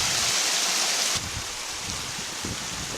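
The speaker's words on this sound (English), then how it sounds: "So here's the upper falls." Upper falls of a creek lined with lush green plant life, giving a steady broadband rush of falling water that stays constant and fairly close, with no voices.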